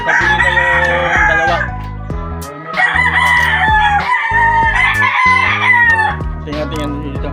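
Several seven-month-old Paniloc GF stags, young gamecocks, crow repeatedly and loudly close by, the calls overlapping with clucking and other fowl in the background.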